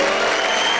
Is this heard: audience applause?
yes